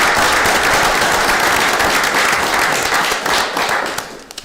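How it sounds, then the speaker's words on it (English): Sustained applause from the audience at a borough council meeting honoring members receiving memorial awards, a steady dense wash of clapping that holds loud for several seconds, then thins and tapers off with a few last claps. "Please join me in a round of applause for these members receiving their memorial awards."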